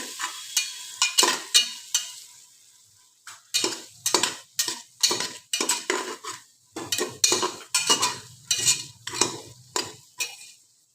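A spoon stirs and sautés a mixed vegetable and pea biryani mixture in a pan, giving repeated rhythmic scraping strokes with a light sizzle underneath, close and fairly loud, with no one speaking.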